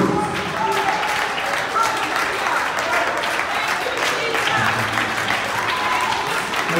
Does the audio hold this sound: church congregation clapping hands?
yes